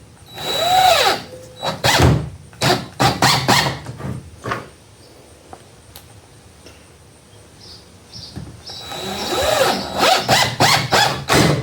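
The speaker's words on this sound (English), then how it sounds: "I'm going to go ahead and pre-drill these ones in" A power drill whirs in repeated short bursts, pre-drilling holes in wood for a mortar rack, its pitch rising and falling as it bites in, with a quiet pause midway before more drilling.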